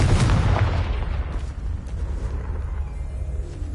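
A Confringo fire spell explodes in the game Hogwarts Legacy as a loud, close boom with a deep rumbling tail that fades into crackling debris, heard alone.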